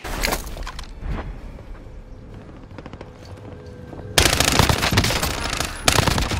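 Call of Duty Modern Warfare combat: scattered gunshots give way to loud, dense automatic-weapon fire that dominates the final seconds.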